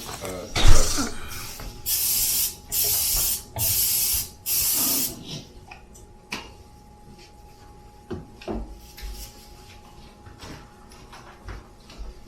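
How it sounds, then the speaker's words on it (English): Several short bursts of cooking spray hiss close by onto a baking pan, evenly spaced, followed by quieter kitchen clatter and small knocks. "So first, let's spray the pan."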